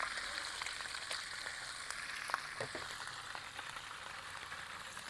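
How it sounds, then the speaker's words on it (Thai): Fish seasoned with curry paste frying in hot oil in a pan at an outdoor riverside cooking spot by a dam, with a steady, close, dense sizzle and crackle running throughout and a few louder pops. "ผมจะทำปลาทอดเครื่องใส่เครื่องแกงหนึ่งขีดเลย"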